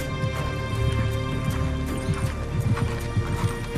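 Horse hooves clip-clop in a steady trotting rhythm, with a tonal musical background underneath.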